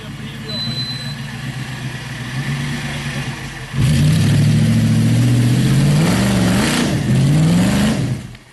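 A Mercedes G-Class engine idles, then jumps to a loud, sustained rev that rises and falls in uneven surges before dropping off, with people talking over it.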